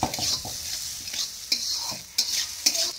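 Green chilies and onion shallow-frying in about 100 ml of oil, with a steady close sizzle broken by several sharp bursts as the pieces are stirred, no voices.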